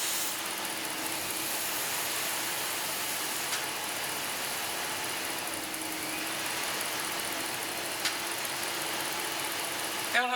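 A car engine idles steadily after a vacuum leak, a constant close mechanical hum with a faint whine running through it and no breaks or revving across the whole stretch.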